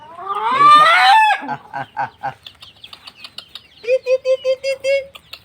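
Chickens cluck and squawk nearby, a loud drawn-out call followed by a quick run of short rhythmic clucks.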